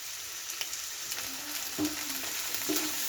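Horse gram stirred in a pan with salt and turmeric, a steady frying sizzle broken by a few soft scraping strokes of the spoon, close and moderately loud with no talking.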